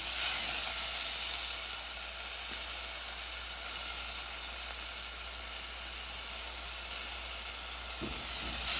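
Ginger, garlic and green chili paste sizzling in a pan over medium-low heat, a steady close hiss of frying that carries on evenly throughout with no talking.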